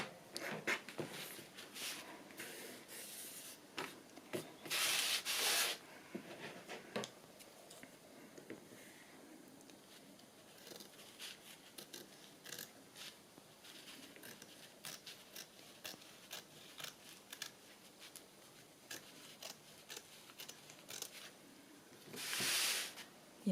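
A blade cuts and trims the edge of a handmade journal cover in close, quiet scratching strokes with irregular ticks. Two louder rustling bursts stand out amid the light, intermittent cutting sounds.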